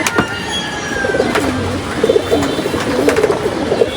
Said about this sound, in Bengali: এটা খয়রি গলা কবুতর।